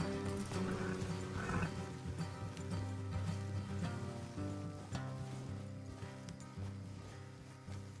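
Horses in the Red Dead Redemption 2 video game clop along with steady hooves, set against dense game music and ambient sound, giving a loud, busy mix throughout.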